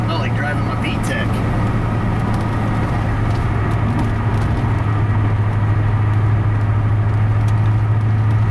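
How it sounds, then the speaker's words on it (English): A Chevy Corvette engine running with a misfire, a steady loud low drone with uneven skipping pulses throughout, close and continuous with road and traffic noise around it. "Yep, I'm gonna say it definitely has a misfire."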